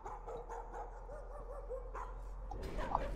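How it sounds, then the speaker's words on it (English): A dog in the horror video game Layers of Fear gives faint, distant whimpering yips and barks over a low steady hum, then a louder rustling burst near the end. "And I hear a dog. There's that dog."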